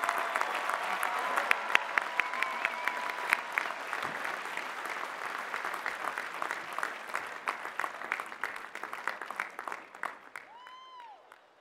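A commencement audience gives sustained, even applause for the first College of Health bachelor's degree graduates, a long wash of many clapping hands that slowly thins toward the end.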